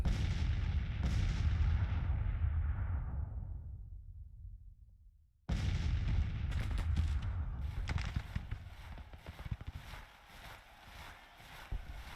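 Artillery and gunfire from Grand Tactician: The Civil War at the Battle of Champion Hill: heavy cannon booms roll and fade, then a denser crackle of continuous musketry and distant shots follows.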